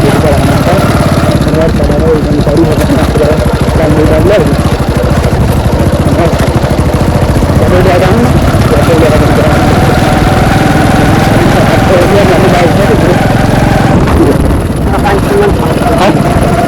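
A motorcycle engine idles close by, a loud, steady throbbing drone that holds without letup, with people talking over it.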